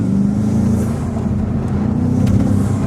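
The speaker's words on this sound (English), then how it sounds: "The air whooshing noises you guys just saw doesn't get any better." Deep steady engine drone from a BMW M550 fitted with aftermarket intakes, a constant loud rumble with faint airy whoosh above it, heard continuously with no talking.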